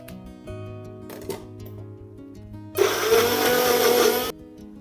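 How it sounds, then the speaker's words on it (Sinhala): An electric kitchen blender whirs loudly for about a second and a half, blending salt into a mixture for a pan-cooked fish marinade, set against quieter kitchen background sounds before and after. "ලුණු ටිකක් දාගෙන ඒකත් ආපහු බ්ලෙන්ඩ් කරගන්න."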